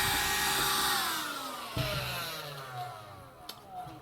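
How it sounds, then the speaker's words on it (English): A portable vacuum cleaner winds down, its whining motor pitch falling steadily, with a few clicks and knocks along the way. "Portable vacuum cleaner."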